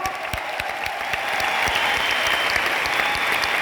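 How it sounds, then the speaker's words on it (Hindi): An audience at a celebration event in Delhi bursts into applause, dense continuous clapping from many people that swells slightly after the first second and holds steady at close, full volume. "वेल्थ पैक ऑफर तो एक बार तालियां बनती है, कम ऑन।"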